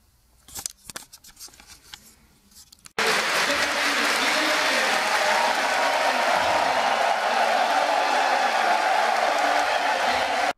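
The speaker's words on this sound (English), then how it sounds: "Here is a short excerpt, very short excerpt, with crowd reaction." Loud, sustained applause from a large crowd at The International 3 esports event, steady and dense throughout, following a few seconds of quieter scattered sounds.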